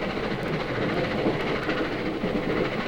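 A heavy train rumbles steadily along the tracks, a dense continuous roar with faint rhythmic clatter of wheels, sustained and unbroken throughout.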